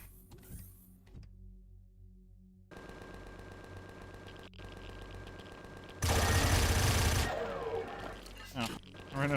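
Rapid automatic gunfire in Empyrion Reforged Eden, a dense rattling stream of shots, loud and close, preceded by mechanical whirring, with a voice speaking briefly.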